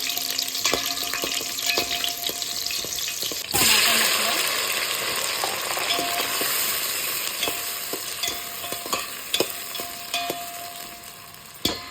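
Green chillies hit hot oil with a sudden loud sizzle partway through, then a steady frying hiss with scattered clinks of stirring continues close by in a home kitchen while sambar is being made.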